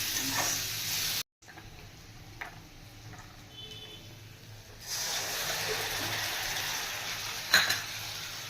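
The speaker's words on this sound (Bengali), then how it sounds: "পেঁয়াজটা আগে ভেজে নিচ্ছি" Onion frying in a pan on a home stove while ghugni is made: a steady close sizzle with a brief dropout, then louder frying with light stirring and one sharp clink near the end.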